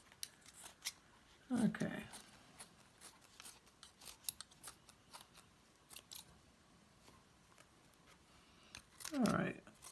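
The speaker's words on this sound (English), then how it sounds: "These scissors aren't the best, but they're doing in a pinch." Scissors snip through material in short bursts near the start and end, with small rustles between and a brief spoken word.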